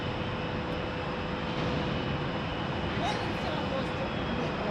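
An American Airlines jet at Phoenix Sky Harbor International Airport produces a steady, broadband engine roar that stays loud and continuous throughout, with no distinct pauses.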